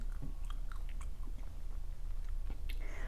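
Fresh Florida pink shrimp cocktail chewed up close, with soft wet bites and crunchy chomps arriving in an uneven rhythm and nobody talking.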